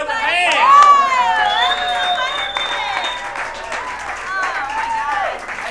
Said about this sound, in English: You stop clapping.